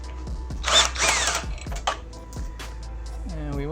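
A power tool whirs in several short bursts while a bolt is removed during a front-mount intercooler install on a Hyundai Veloster Turbo, with clicks and clanks between the bursts.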